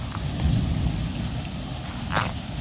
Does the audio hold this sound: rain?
yes